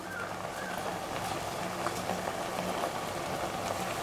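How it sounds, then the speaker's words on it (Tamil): Steady bubbling and hissing of erissery, a Kerala curry of raw plantain and yam with jaggery, boiling in a pot, continuous and close, with small pops scattered throughout. "நல்லா கொதிக்கட்டும்."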